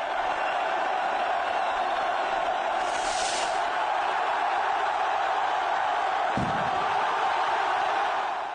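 Thousands of revelers cheering at the opening of Pamplona's San Fermin bull-running festival, a dense continuous roar of crowd noise with a brief thud partway through.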